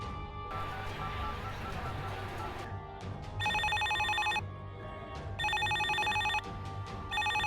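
A telephone rings in a home, repeated electronic ring bursts in a steady on-off pattern, loud and close, with no talking over it.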